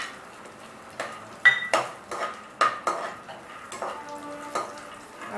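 Curry leaves and roasted peanuts being sautéed in a pan for spicy puffed rice, with a light sizzle under repeated clanks and scrapes of a metal spoon stirring against the pan.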